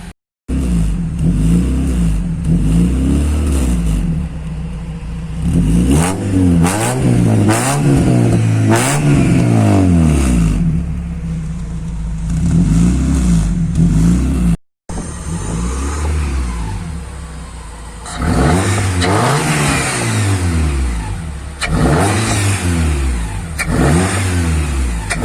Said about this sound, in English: I'm gonna give you guys a couple of revs